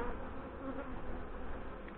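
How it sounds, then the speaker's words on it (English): Honey bees swarm and buzz around a beekeeper opening a hive during a spring inspection, a dense, steady drone close by and filling the whole stretch with no voices. "I've got some angry bees are surrounding me."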